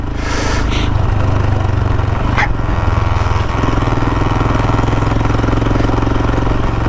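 A 2019 Royal Enfield Himalayan motorcycle engine drones steadily and loudly while being ridden, a constant close thrum with wind rush and no speech over it.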